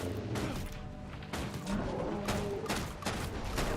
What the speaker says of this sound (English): I'm going to go ahead and start shooting at him.